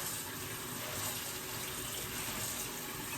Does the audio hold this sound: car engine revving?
no